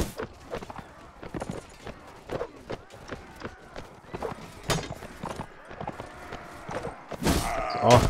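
Horse hooves clip-clopping at a run in the video game Mount and Blade: Warband, a steady rapid beat under battle noise, with a louder burst near the end and a faint voice in the background.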